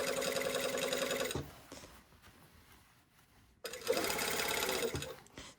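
Sewing machine stitching a continuous lap sleeve placket on a shirtdress, two close bursts of rapid mechanical chatter separated by a quieter pause.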